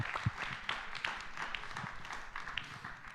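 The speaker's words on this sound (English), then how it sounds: "Needs a round of applause." Faint, sparse applause for a speaker arriving at a London Climate Action Week event, a handful of scattered claps heard at a distance and at low level rather than a full ovation.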